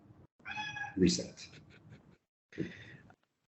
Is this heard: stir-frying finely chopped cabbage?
no